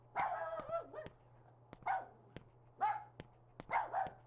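Dog barking in the game Rule of Rose: several sharp barks and yips in short bursts with pauses between, fairly close, over a low steady hum.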